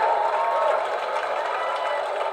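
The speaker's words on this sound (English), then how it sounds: "Please give Claire a round of applause." An audience at the Logies television awards ceremony applauds in a steady, dense wash of clapping that carries through the entire short moment, with no one speaking over it.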